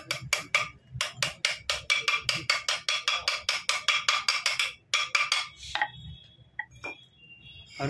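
Metal hammer driving a 6004 bearing into a bike reverse gearbox, a rapid run of about thirty sharp, ringing strikes in quick rhythm, then a pause and a few scattered taps and clinks.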